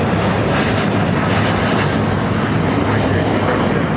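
United Boeing 777-200 jet arriving at LAX on the south side, a loud, steady broadband engine roar filling the whole stretch without letup.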